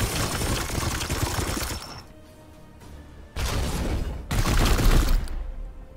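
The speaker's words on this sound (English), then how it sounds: "Lots of support fire." Heavy support gunfire from a Warhammer 40k Chaos Gate Daemonhunters battle crackles in dense volleys, a long loud burst dropping to a quieter lull, then two more sharp, powerful bursts close by.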